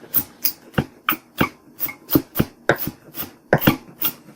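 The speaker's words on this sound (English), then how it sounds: "I just dice it all up" A knife dicing vegetables on a cutting board for chia seed burgers, about sixteen crisp, evenly spaced chops in a steady rhythm, close and clear with no talking.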